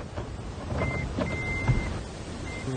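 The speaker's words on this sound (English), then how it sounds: "Push in, key buzzer, let go, no key buzzer." A Toyota ignition lock with a buzzer glitch sounds its key reminder buzzer in short, faint electronic tones that come and go, amid quiet clicking and handling noise.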